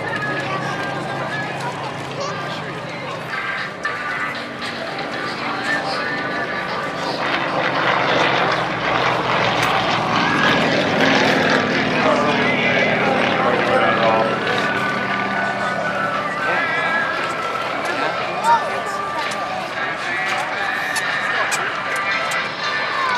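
Propeller aircraft, a Yak-52 of an aerobatic team, flying at a Colorado sport aviation airshow in 2009, a steady broad engine drone that swells and fades as it passes, with commentator speech over a public address running beneath.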